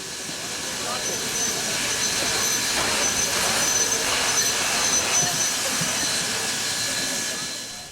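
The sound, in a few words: train easing into rail yard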